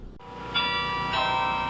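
Church bells ring out across the Michigan State University campus during a remembrance gathering, sustained tolling with two strong strikes blooming into long resonant overtones, moderately loud and alone with no talking.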